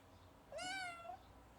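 A frightened young cat gives a single clear meow, rising then falling and lasting about half a second, close by against a quiet room.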